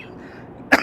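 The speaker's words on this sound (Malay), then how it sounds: "batuk pula" A single sharp cough near the end of a short, quiet stretch, close and loud against faint background hum, at a pilgrimage tent camp in Mina during the Hajj.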